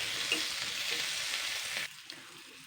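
Chopped onion and a dried red chili fry in hot oil with a bright, continuous sizzle that suddenly drops to a softer hiss partway through, likely as the pan is moved or stirred.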